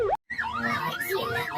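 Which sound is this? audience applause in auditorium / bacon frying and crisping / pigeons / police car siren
police car siren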